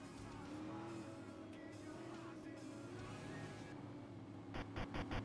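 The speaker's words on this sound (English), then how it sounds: "Getting volumes just right, the engine noise just right" Super late model race cars roar around an oval in a sim racing game, a continuous droning engine sound with shifting pitch as cars pass, fairly quiet and steady with no talking.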